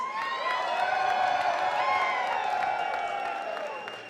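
Loud crowd applause and cheering at a live music performance fill the whole clip, steady clapping with whoops, fading slightly toward the end.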